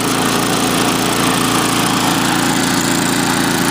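MTD snowblower engine running with its auger turning, a loud, close, continuous small-engine drone that stays constant throughout with no talking.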